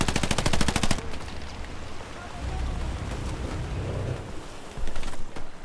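Machine gun fire from a bunker during an Omaha Beach battle in the video game Hell Let Loose, a rapid rattling burst in the first second, then rumbling battle noise, with another short burst near the end.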